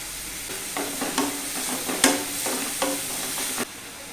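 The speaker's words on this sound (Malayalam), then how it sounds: "സവാളയൊക്കെ ഒരു ലൈറ്റ് ബ്രൗൺ കളർ ആകും വരെ ഇതുപോലെ ഇളക്കിക്കൊണ്ടിരിക്കും." Onions frying with salt in a pan on low heat while being stirred, a quiet sizzle broken by repeated scraping strokes of a spoon, close up with no talking.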